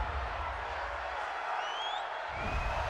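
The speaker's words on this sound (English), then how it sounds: "this crowd does not like that call" A stadium crowd at a Cincinnati Bengals versus Pittsburgh Steelers football game reacts to a roughing-the-passer penalty with a steady, loud roar and scattered whoops, mixed with commentary.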